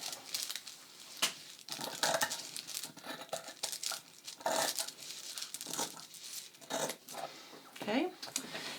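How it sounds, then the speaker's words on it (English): Scissors slide steadily through fabric being cut out for yoga pants, giving a close series of crisp snipping and rustling bursts with brief pauses between strokes. "Notice I'm not bobbing my scissors up and down, I'm just very carefully sliding"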